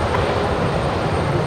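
An Airbus A330 airliner taxis at Brisbane Airport, giving a loud, steady jet-engine roar that holds evenly without a break through the short stretch.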